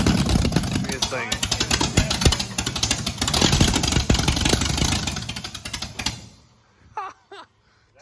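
A Plymouth Duster car engine with new heads and cam runs loudly with rapid, chugging firing pulses, then cuts off, followed by brief speech.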